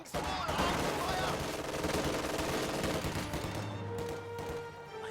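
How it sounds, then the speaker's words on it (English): Small arms gunfire in a World War II video game, a dense loud volley of rapid shots that thins toward the end, with faint voices underneath. "Taking small arms fire!"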